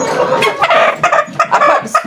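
Laying hens on a city poultry farm cluck and squawk continuously up close, loud overlapping bird calls in an uneven busy rhythm, with no talk over them.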